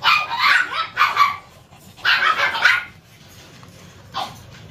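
Pet dogs bark in three short bursts of sharp, yappy calls, fairly close, with quiet pauses between bursts and a faint yip at the end.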